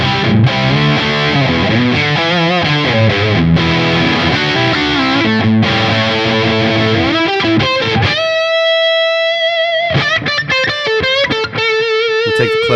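High-gain lead electric guitar through a Marshall Silver Jubilee-style amp capture, loud and saturated with sustained notes and bends. Later come quicker, cleaner-edged runs with clipped attacks, playing alone with no talk.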